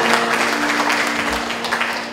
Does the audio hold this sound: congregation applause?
yes